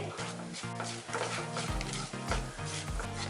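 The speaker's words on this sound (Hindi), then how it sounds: "इसे आटे के साथ अच्छे से मिक्स करेंगे।" Wheat flour roasting in a hot pan with cloves, cinnamon and ajwain is stirred steadily, a close scraping and soft sizzle running throughout over quiet background music.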